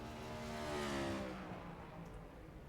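In a Cup Series stock car racing video game, the number 94 race car's engine revs with a rising tonal whine, peaks near the middle, then fades, moderately loud with no other sounds.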